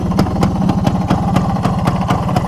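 A Suzuki Satria 120R two-stroke motorcycle engine idles close by with a fast, even putter, its regular pops sharp and steady throughout.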